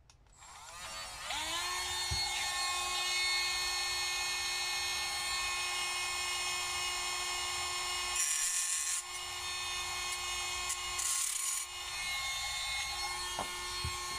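A power tool spins up and cuts a small part for a homemade fishing boilie cutter on a workbench, a steady high whining drone with strong tonal ringing that runs for several seconds, with brief rougher surges as it bites.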